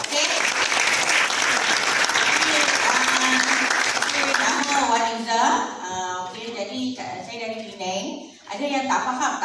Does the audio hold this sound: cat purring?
no